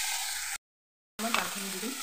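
Boiled lentils (dal) go into a pan of hot oil and fry with a close, hissing sizzle and a few stirring knocks. The sound cuts to a brief dead silence midway, then the sizzle resumes.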